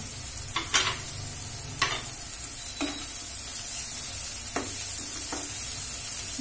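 Ginger and garlic paste frying with spices in a pan, a steady close sizzle broken by several sharp scrapes and clinks of a spoon stirring against the pan.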